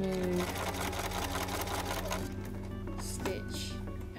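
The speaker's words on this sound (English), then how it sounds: "this lovely machine we can actually automatically get it to stitch with the needle down" A domestic sewing machine stitches steadily in a rapid mechanical rhythm with the needle-down setting engaged, then slows and stops toward the end, while a person talks over it.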